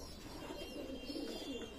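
Pigeons, including Teddy and Chinese breeds, coo softly and continuously in a faint, steady murmur at a pigeon farm, with no talk.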